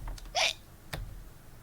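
A single short, sharp sneeze burst nearby, followed by a faint breathy sound, otherwise quiet.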